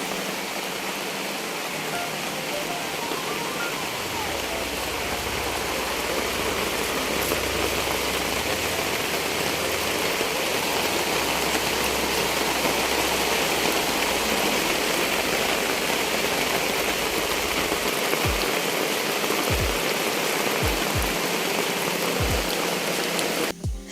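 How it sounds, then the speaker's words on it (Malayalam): Steady heavy rain pours down in a dense, continuous hiss, with a low rumble underneath and a few soft knocks near the end. "രാവിലെ തന്നെ നല്ല അടിപൊളി മഴയാണ് കേട്ടോ"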